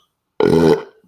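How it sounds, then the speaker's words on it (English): A single loud, close burp after drinking wine, lasting about half a second and then trailing off into quiet. "Wine burps are not like beer burps, but they're still good."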